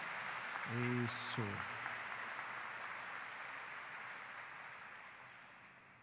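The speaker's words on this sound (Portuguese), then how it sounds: "Ele merece uma salva de palmas," Church congregation applauding during a homily, a steady broadband wash of clapping that holds for several seconds and slowly fades, with a voice speaking briefly over it near the start.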